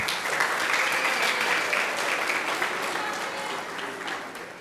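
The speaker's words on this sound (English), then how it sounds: "let's give these boys and girls a round of applause" Audience applause at an elementary school graduation for the students: a thick, steady burst of clapping that slowly tapers off, with some voices murmuring underneath.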